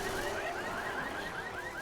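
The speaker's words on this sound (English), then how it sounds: "Set the car alarm off." Car alarm in the video game Left 4 Dead, a repeating rising electronic wail cycling several times in a steady loop at moderate level.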